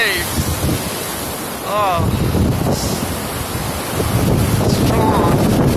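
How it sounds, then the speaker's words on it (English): Ocean surf rolls in and washes along a Malibu beach at sunset, with strong wind buffeting the microphone and a voice briefly exclaiming over the roar. "Oh, look at those waves."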